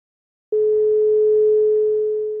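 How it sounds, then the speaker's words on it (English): A single chime rings out after a moment of silence, a pure, sustained tone that starts sharply and fades only slightly while it holds, loud and alone. "we hear the sound of chimes punctuating my breathing"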